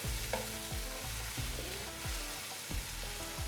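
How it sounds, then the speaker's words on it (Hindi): Rice frying with kofta balls for moti pulao, a spoon scraping and knocking against the pot in repeated strokes about every half second over a steady sizzle, close and clear. "इसको हम भून लेंगे।"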